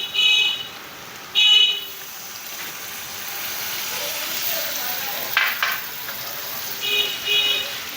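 Melon seed paste hits hot oil in a pan and sizzles with a steady close hiss, rising in a few brief bursts, while short electronic beeps sound at the start and end.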